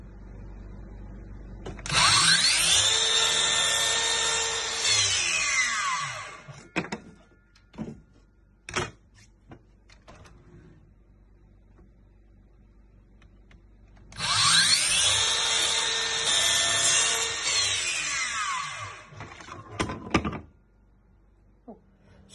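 Two long passes of a Makita 40V MAX XGT brushless 216 mm slide compound mitre saw making trenching cuts in wood, loud high whine with blade cutting, separated by quiet clicks and handling knocks.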